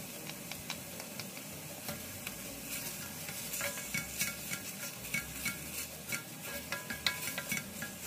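Pork with gochujang stir-fried in a pot: a steady sizzle runs throughout, broken by frequent clicks and scrapes from the stirring utensil that grow busier toward the end.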